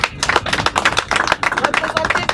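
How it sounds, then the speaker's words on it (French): An audience at a karaoke event at the Kinshasa International Fair claps loudly, a dense, brisk burst of applause filling the whole moment. "J'aimerais que l'on applaudisse très très fort pour"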